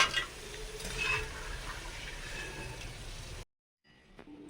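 Jackfruit chips frying in hot oil give a steady, soft sizzle and bubbling close by. The sound drops out abruptly near the end, then returns more faintly.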